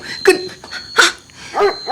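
A dog barks three times in quick succession, close and fairly loud, with short sharp yelps spaced evenly apart.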